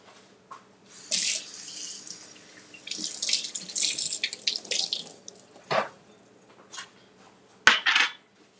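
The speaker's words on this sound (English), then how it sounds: "Let me rinse these off." Tap water runs in bursts while strawberries are rinsed at a kitchen sink, with splashing and a few light clinks of dishes or cutlery. The water starts and stops several times, and one short sharp knock comes near the end.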